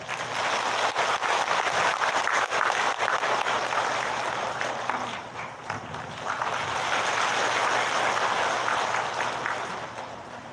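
Audience applause at a senior citizens' job program rally in a hall: loud, dense clapping from a large crowd that dips briefly midway and then swells again before fading slightly, with no talking.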